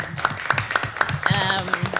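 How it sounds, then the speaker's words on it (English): Applause for the event staff at a workshop session: a few hands clap in a quick, even rhythm, close and moderately loud, while a voice keeps talking over it. "we should give a round of applause to the staffs of LAC and the School of Journalism"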